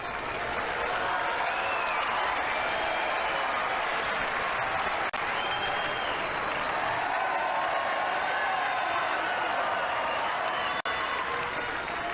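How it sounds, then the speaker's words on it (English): A tennis crowd at Monte Carlo in 2006 breaks into sustained loud applause and cheering, a dense unbroken roar of clapping that fills the whole stretch. "Well, there's a big cheer."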